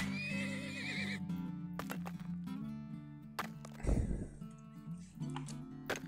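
Horses neighing in the video game Turmoil, long whinnies that rise and fall over a low hum, interrupted by short sharp knocks and one louder thumping burst midway, moderately close and clear, with no voices.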